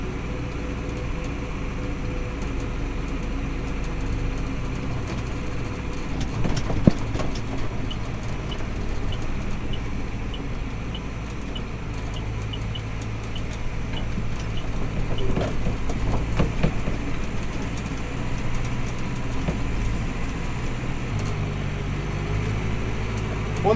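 A 4-cylinder Challenger tractor runs steadily while hauling a manure spreader down a road, giving a continuous low engine drone with faint rattles and a few brief knocks.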